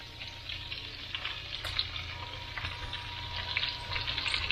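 A pound of peeled, deveined medium shrimp dropped into a hot pan: a steady, soft, close sizzle with crackling spits and faint stirring scrapes, no talk.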